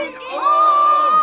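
Animals in a French fable about an owl, the moon and a crow cry out together. The sound is one loud, sustained, shout-like wail that rises and holds for about a second.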